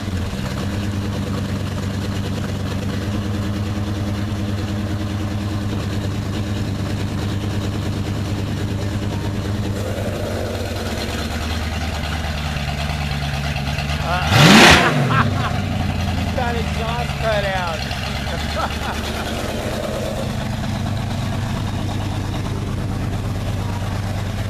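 A 1957 GMC truck fitted with bow-tie exhaust tips idles with a steady, low rumble that holds throughout. A single brief rev swells past the middle, while voices talk nearby.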